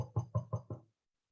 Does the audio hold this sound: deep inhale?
no